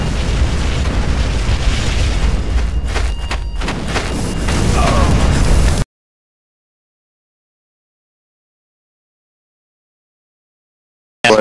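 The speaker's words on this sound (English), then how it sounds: "Hit the explosive barrels." Explosive barrels blowing up in Garry's Mod Trouble in Terrorist Town: a loud, dense rumbling boom sustained for several seconds, then sudden silence and a brief burst at the end.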